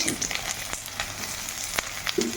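Chopped garlic and onion frying in a pan with bay leaf, a dense steady sizzle up close, punctuated by a few light clicks and stirring taps.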